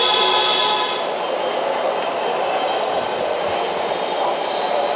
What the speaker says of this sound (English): it seems like I found the metro station